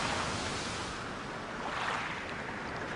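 Ocean waves wash in a continuous broad rush at a sea fish farm with net pens, with steady surf and a faint wind-like hiss.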